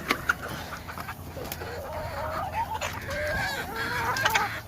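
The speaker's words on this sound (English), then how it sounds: "There's the rooster." Roundhead hens and a rooster cluck and call close by in a farmyard, a steady stream of overlapping murmuring clucks with a few sharper, higher calls rising over the flock.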